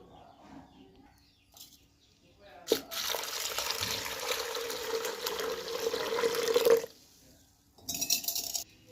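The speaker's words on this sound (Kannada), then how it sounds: "ನೋಡಿ ನೀರನ್ನ ಹಾಕಿದ್ದೀನಿ" Water pours steadily into a pressure cooker for about four seconds, a close, rushing splash that begins with a sharp clunk and stops abruptly, with quieter kitchen sounds before and after.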